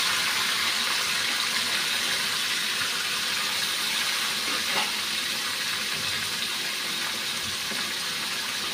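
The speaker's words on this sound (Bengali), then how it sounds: "এখন আলুগুলা ভাজতে দিয়ে দিচ্ছি।" Potatoes frying in a pan with oil, a continuous loud hiss of sizzling that stays even throughout, with one faint clink partway through.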